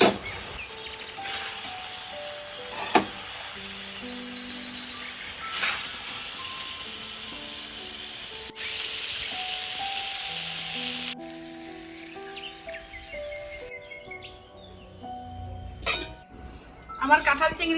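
Jackfruit and shrimp curry with yogurt frying in released oil in a village kitchen, a steady close sizzle with occasional stirring clinks and scrapes, faint birdsong in the background.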